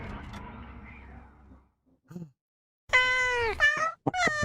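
A cat meows in the video game Wartales, several clear, fairly loud mews in quick succession near the end, after a quieter stretch of ambient sound and a brief soft noise.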